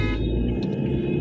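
Road traffic on Chandigarh city streets around Sectors 16, 17 and 22, with a continuous low engine rumble and passing-car drone, steady and fairly close, with no speech.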